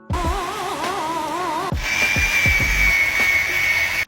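A polishing machine in a carbon fiber factory's polishing area gives a loud motor whine that wavers in pitch, then shifts to a steadier, higher whine with low knocks and thumps underneath.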